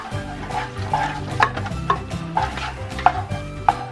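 A spoon stirs macaroni and cheese in a pot, giving soft repeated scraping and sticky squelching strokes at a steady rhythm, close by and moderately quiet, with light music underneath.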